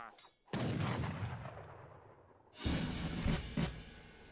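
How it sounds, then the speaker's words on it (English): Rockets fire in an Age of Empires III battle, two heavy booming volleys with long rumbling tails, the second followed by a couple of sharper blasts, loud and close. "Rocket's about to come in."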